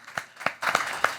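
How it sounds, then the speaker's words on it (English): A few people clap for the musicians at a one-night satsangh, with sparse, separate hand claps that quickly thicken into a short, close burst of applause. "I think these musicians deserve a round of applause."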